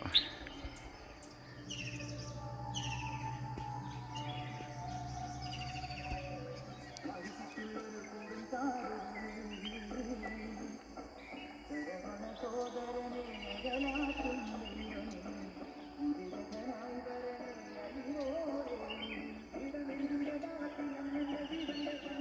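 Faint birds chirp and tweet in the background near a small check dam by a waterfall while people talk steadily throughout, with a low hum early on.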